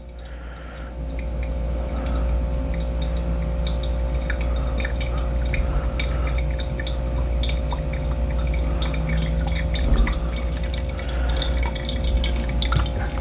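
Hot water poured over pour-over coffee in a hotel room, a steady trickle with fine, scattered drips running continuously, close and fairly quiet, with a faint low hum underneath.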